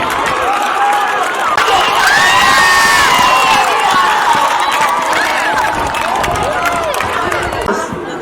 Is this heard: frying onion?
no